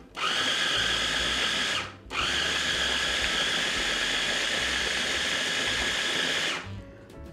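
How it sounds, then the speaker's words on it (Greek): Kitchen blender pureeing forest fruits and plums with wine, a loud, steady high whine running about two seconds, stopping briefly, then restarting for a longer run before switching off. "Θα το πολτοποιήσουμε τώρα στο μπλέντερ."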